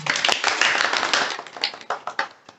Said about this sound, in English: Can we clap for Harsh?